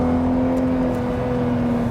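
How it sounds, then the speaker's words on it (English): Naturally aspirated six-cylinder engine of a Mk4 VW Golf R32 pulls steadily under acceleration on a motorway, a loud, continuous drone heard from inside the car with no talking. "It's at the same time really a rather harmonious acceleration from the naturally aspirated"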